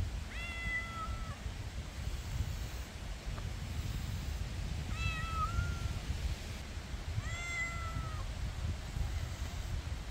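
A cat outdoors meows three times at steady intervals, each a clear rising-then-falling call, moderately near against a constant low wind rumble.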